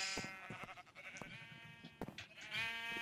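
Sheep bleating in a Minecraft-like video game, several short nasal bleats with a pitched wavering tone, fairly faint and overlapping, with no talk over them.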